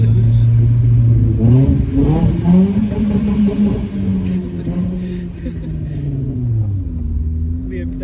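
A Vauxhall Corsa B engine revs hard inside a tunnel, loud and close, its pitch climbing and falling through several throttle blips with a booming echoing rumble, while people talk over it.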